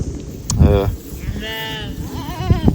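Several sheep bleat in short, wavering cries close by, one after another, with a faint rustle of the surroundings between calls.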